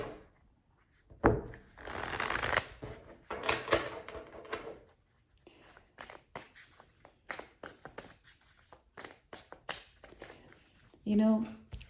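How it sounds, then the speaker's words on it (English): A Dreams of Gaia Tarot deck is shuffled and handled in bursts of papery rustling and soft taps, with a person talking at intervals over the card sounds. "let's draw more cards because they really need to integrate"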